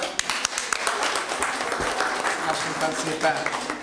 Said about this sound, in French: C'est Madame Hayat Boukhris qu'on applaudit très fort.